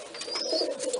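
Pigeons coo softly and continuously at close range, with a low murmuring call and no voices over it.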